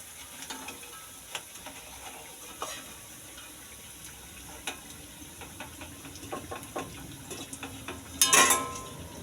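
Cabbage pakoras fry in hot oil with a soft continuous sizzle and scattered light scrapes and clicks as they are stirred and lifted out. A sharper clatter comes near the end.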